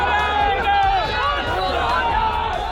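An agitated crowd of protesters pushing past police barricades toward a tomb in Fatehpur fills the air with loud, close babble and shouting, many voices overlapping in a continuous surge.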